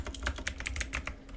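Quick, light keystrokes clatter on a computer keyboard, close and clear, in a short burst of about a dozen taps.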